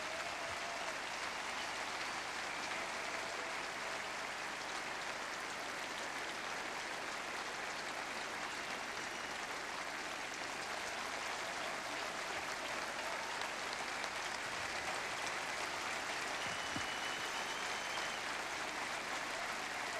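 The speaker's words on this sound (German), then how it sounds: "Dieser Applaus gilt ihr." Sustained audience applause fills a tennis stadium after the 1994 Berlin German Open women's final, a dense, steady wash of clapping from a large crowd that holds at an even level throughout with no talk over it.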